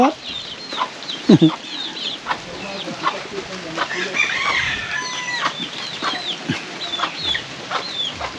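Native chickens, mostly roosters, cluck and chirp nearby with scattered calls and a brief burst of wing flapping, while people talk faintly in the background.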